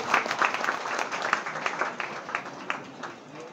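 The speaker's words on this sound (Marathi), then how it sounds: "अशा छत्तीसकर कुटुंबियांसाठी जोरदार टाळ्या झाला पाहिजे." An audience at a Kumbhar community bride-groom matchmaking gathering in Sudhagad, Raigad, claps in steady, moderately loud applause that continues throughout, with a few voices underneath.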